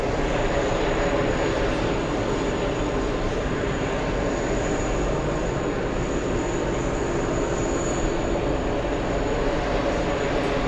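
An ITA Airways airliner taxis at JFK, its engines a steady, continuous roar of broadband rumble and hiss that holds at an even, fairly loud level throughout, with no talk over it.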